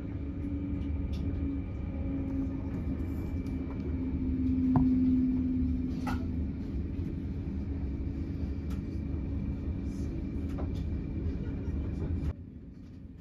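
Low steady rumble of a Cork to Dublin train moving along the rails near the River Blackwater at Mallow, County Cork, with a brief tonal whine midway and faint clicks, no talking.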